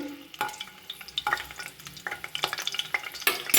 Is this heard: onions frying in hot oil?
yes